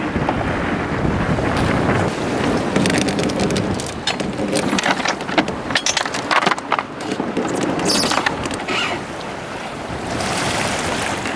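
Strong wind buffets a sailboat at anchor off Puerto Rico, a constant loud roar and rumble across the microphone with waves and water sounds beneath it, continuous throughout.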